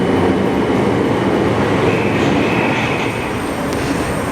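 Thameslink train at Wimbledon station, a loud close rumble of rolling wheels and rail noise holding steady, with faint squealing tones above and a slight easing toward the end.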